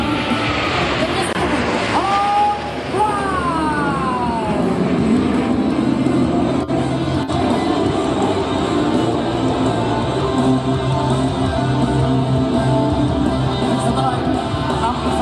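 Indonesian military (TNI) fighter jets pass over an anniversary air show, a loud continuous roar with rising and falling tonal sweeps over steady crowd noise and a commentator's voice on the public address.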